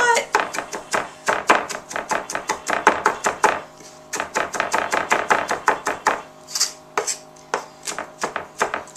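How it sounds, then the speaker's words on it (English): A knife chops garlic on a cutting board in rapid, repeated taps, a near and crisp rhythmic run with a short pause midway, then slower knocks toward the end. "here you can see I've been chopping up the garlic"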